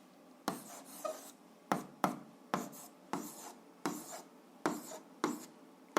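An answer being written by hand in a quiet room, with about ten short scratchy pen strokes landing at a steady, regular pace.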